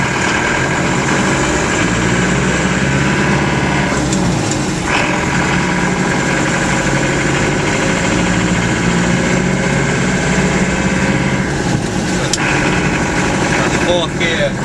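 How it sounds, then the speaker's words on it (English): Engine of a 1967 Austin FX4 taxi cruising in fourth gear at about 22 mph, a steady, loud droning hum with road rumble that stays constant throughout, heard from inside the cab. "Fourth gear, cruising at an indicated 22 miles an hour."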